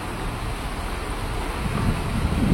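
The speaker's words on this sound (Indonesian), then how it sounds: "Sekarang hujan guys di Depok Baru." Rain falls at Depok Baru train station in Depok, a dense, continuous hiss that swells slightly louder toward the end, with no voices over it.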